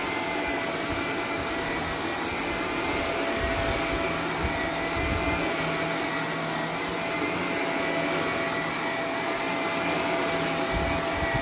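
A Shark Apex Zero-M upright vacuum cleaner (AZ1002) runs steadily on carpet, giving a loud, continuous motor whir and rush of suction with low rumbling from the brushroll, unbroken and without talk.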